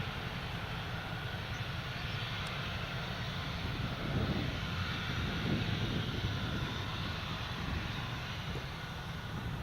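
Steady broadband roar of an aircraft taxiing along the runway at Carlisle Airport, a continuous distant engine drone with no pauses and no talk over it.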